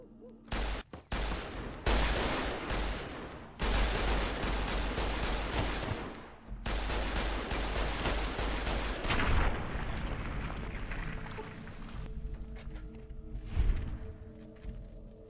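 Rapid gunfire in the video game Fallout: New Vegas, dense bursts of shots repeating loudly for most of the stretch with brief pauses between volleys before thinning out.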